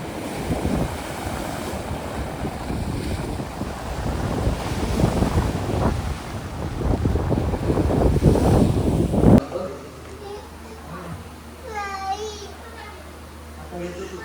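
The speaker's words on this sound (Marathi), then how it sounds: "इकडं इकडं पूर्ण समुद्र आहे" Sea surf at Harihareshwar beach on the Konkan coast, a steady broadband roar with wind buffeting the microphone for about nine seconds, then cutting abruptly to a quieter scene with faint chirping tones.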